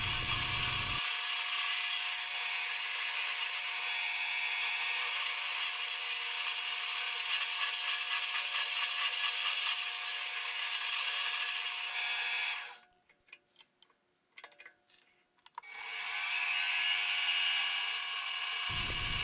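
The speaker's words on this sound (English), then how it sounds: "This is an example of me taking a larger slice off using the boring bar." A lathe boring bar slowly takes a heavy cut from a steel hex nut being turned into a ring, a steady high whine and chatter with a brief break before resuming, with no talk.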